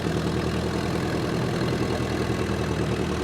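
A century-old Ford Model T engine runs steadily, its low, even mechanical drone holding at a constant level with no clear rise in revs as the accelerator pedal is pressed.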